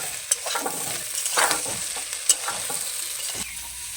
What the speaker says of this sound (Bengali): একসঙ্গে মিশিয়ে নেবো